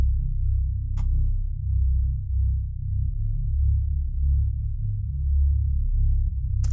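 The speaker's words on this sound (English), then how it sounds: "The sub sounds like this." Deep sustained sub bass line from the melody of an electronic track, a smooth low rumbling tone with slow swells, alone and fairly loud, with two faint brief ticks.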